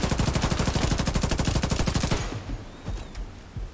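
Rapid automatic gunfire from The Division 2 rattles in a dense, steady burst for about two seconds, then cuts off, leaving quieter game ambience with a couple of faint thumps.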